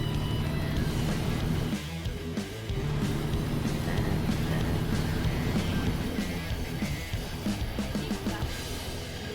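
A heavy truck in American Truck Simulator labors under a heavy load, its engine droning loud and continuous with a strained, rumbling tone and small shifts in pitch, without talk.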